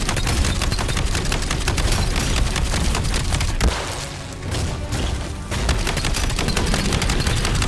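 Video game shotgun loaded with slugs firing a rapid, dense barrage of loud, booming shots, with a brief lull midway before the heavy blasts resume.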